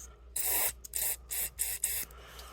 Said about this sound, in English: I'm going to spray some in there and blow the air through it